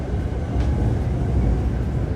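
A train at a railway station platform in Bangkok, at the boarding point for the northern line: a loud, steady low rumble and hum of rolling stock, continuous and close, with no speech.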